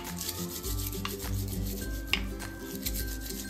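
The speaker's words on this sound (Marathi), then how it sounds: "असं ना हातावरती चोळून शेंगदाण्याचं साल आपण काढून घेऊयात" Roasted peanuts rubbed between the palms to loosen their skins make a steady dry rustling rasp, close and continuous, with a few light crackles and no talking.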